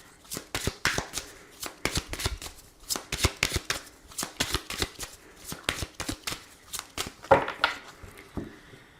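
An oracle card deck being shuffled by hand, a long run of quick, crisp, rhythmic riffling bursts, close and clear, with no speech over it.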